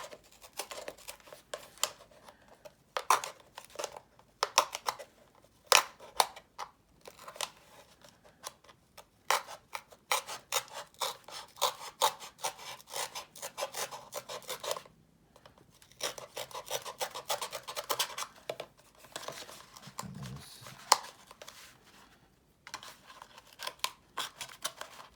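Cutting material by hand for a DIY cell phone stereo, quiet close snips and rasping scrapes in irregular bursts separated by short pauses.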